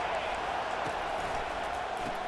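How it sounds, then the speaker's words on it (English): Stadium crowd at a college football game roaring in a steady, dense wash of noise that fills the whole stretch, loud and continuous with no break. "This crowd trying to make life miserable for this offense."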